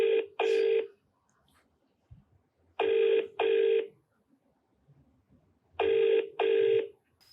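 A telephone call rings out in three evenly spaced double rings, each a bright electronic trill, clean and alone with quiet pauses between them.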